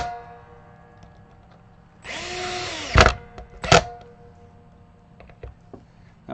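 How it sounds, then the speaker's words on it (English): A power drill with its clutch set slightly too tight slips while driving screws on a guitar neck during a Strat setup, giving a sharp two-second whirr followed by two loud ratcheting clacks and some faint ticks, close and alone. "that was the clutch on my drill, which is set, well, a little bit too tight."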